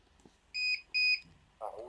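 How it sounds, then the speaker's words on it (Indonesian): A buzzer on a PCB hub 75 and hub 12 test board gives two short, clear electronic beeps in quick succession, close by, followed by a brief rustle. "Oke, buzzer aktif."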